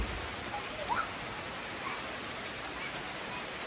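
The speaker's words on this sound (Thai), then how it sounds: "กลับมาบ้านมื้อแรกก็ฝนตกเลยเนาะ" Rain falling steadily at home on an early evening, a soft, even hiss of drops that stays faint and constant throughout, with a few brief higher tones near the start.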